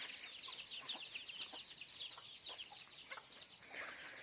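Chickens cluck in short, scattered bursts in a rural yard. The sound is quiet and seems somewhat distant, with no talking.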